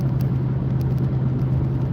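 A white truck passes nearby with a steady low engine rumble and road noise holding throughout, no talk over it.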